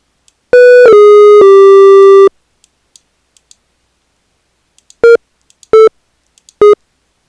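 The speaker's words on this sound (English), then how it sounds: "I think I'll just use it as a plain sine wave" Plain sine-wave chiptune synth tones: one long sustained note after a couple of quick blips, then three short evenly spaced beeps, clean and loud with no voices.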